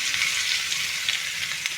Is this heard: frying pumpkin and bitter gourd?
yes